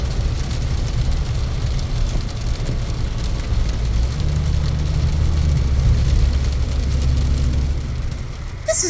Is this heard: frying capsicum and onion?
no